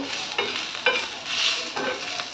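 Onions fry in a pan for a Maharashtrian-style chawli usal and are stirred now and then, producing a close, steady sizzle broken by short scraping strokes.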